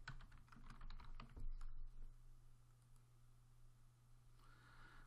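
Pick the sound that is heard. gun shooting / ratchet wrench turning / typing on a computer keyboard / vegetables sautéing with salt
typing on a computer keyboard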